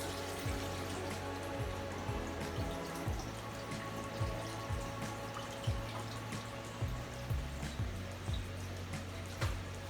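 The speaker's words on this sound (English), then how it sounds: "I'm going to add the carrot first to the water to pre-cook" Pieces of carrot drop into a pot of boiling water for oyster soup, a quiet continuous bubbling with small repeated plops and drips throughout.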